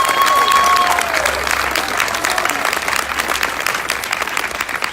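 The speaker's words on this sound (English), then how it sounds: "Let's give them a big round of applause" Steady crowd applause for a jazz ensemble at a supermarket grand opening celebration, dense clapping with some cheering and a faint voice early on, continuous and fairly close.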